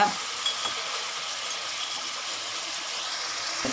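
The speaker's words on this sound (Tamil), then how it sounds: "இப்போ எல்லாத்தையும் நல்லா அப்படி ஒரு பெரட்டு பெரட்டி விட்டாச்சு" Dried fish curry frying in a pan, a continuous close hiss and sizzle with a spoon scraping briefly at the start and end.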